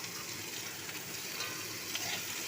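Tomatoes go into a hot pan while cooking a home-style dish, producing a steady, soft, broadband sizzle that holds evenly throughout with faint crackles and no talking.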